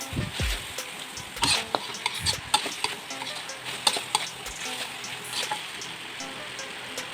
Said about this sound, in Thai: เมนูนี้จะคั่วให้แห้งครับ